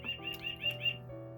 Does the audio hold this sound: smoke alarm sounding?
no